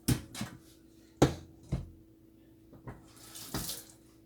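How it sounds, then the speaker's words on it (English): Water drains off raw chicken in a home kitchen while honey garlic chicken is prepared for the oven, coming as several short splashing gushes separated by quiet gaps. "we're going to go ahead and drain some more of this water off this chicken"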